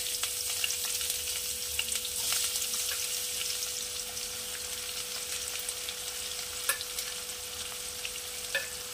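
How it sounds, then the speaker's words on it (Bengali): Asafoetida and chopped onion hitting hot oil in a pan, a dense, bright, continuous sizzle that holds steady and close throughout, with a few faint clicks of a utensil and no voices. "এখানে তেল গরম হয়ে গেছে, দিয়ে দিচ্ছি হিং, দিয়ে দেব কুচো করে রাখা পেঁয়াজ"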